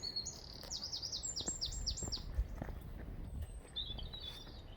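A bird sings a quick run of repeated descending whistled notes during a countryside walk, followed by scattered fainter calls over soft outdoor background and faint footsteps.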